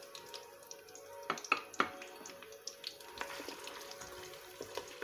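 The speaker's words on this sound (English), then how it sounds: "I'll allow it to fry" Salted fish frying in a pan for a family stew, giving a quiet, steady sizzle with a few sharper pops and crackles scattered through it.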